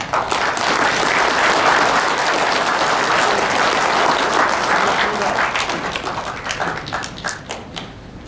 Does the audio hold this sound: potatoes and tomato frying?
no